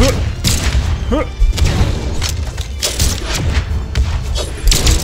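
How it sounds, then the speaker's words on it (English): A bomb blast in the Brawlhalla fighting game, with booming thuds and crashes repeating through the clip amid busy game effects and music. "I was trying to throw a bomb at you"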